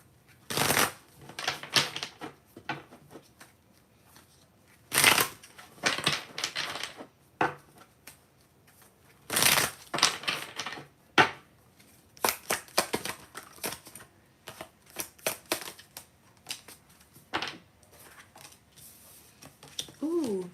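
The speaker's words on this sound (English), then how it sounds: "let's pull another shadow card" Tarot cards being shuffled and drawn, repeated riffling bursts and crisp flicks at close range, irregularly spaced with pauses and quieter card handling between, and brief low speech now and then.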